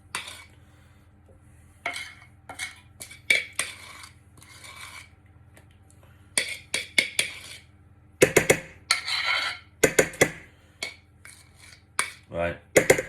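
Spatula scraping sponge cake mix out of a heavy bowl, repeated short rasping strokes and clinks in irregular bursts, close and fairly clear with quiet gaps between.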